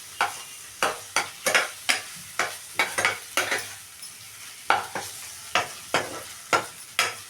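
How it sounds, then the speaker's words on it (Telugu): Ginger garlic paste frying in a pan is stirred with a utensil, giving sharp repeated scraping strokes in an uneven rhythm over a soft sizzle, close and fairly loud with brief pauses. "పచ్చివాసన పోయిన దాకా బాగా కలుపుకోవాలి. అడుగు పట్టకుండా కొంచెం తీసుకుంటూ ఉండాలి."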